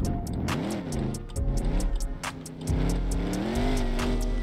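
Engine roar of a 1000hp Hellcat drifting in a video game, loud and continuous with revs rising and falling and tires squealing, steady throughout with no talk.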